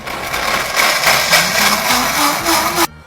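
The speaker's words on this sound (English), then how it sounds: "we're gonna throw these in our blender and make a creaminess" A blender blending soaked cashews with water whirs loudly, its motor pitch climbing steadily, then cuts off abruptly into near silence.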